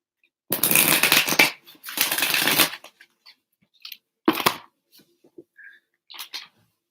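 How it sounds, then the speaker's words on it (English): Tarot cards are shuffled with two long riffling bursts, then a few shorter crisp snaps and taps, loud and close with no voice over them. "one more shuffle"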